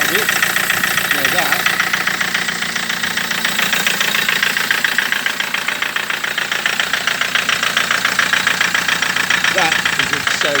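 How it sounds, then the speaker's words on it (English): A Land Rover Defender TDCi diesel engine idles with a steady metallic rattle and rapid knocking pulses, loud and close throughout, someone talking over it at times. "I hope you can hear the rattling of it."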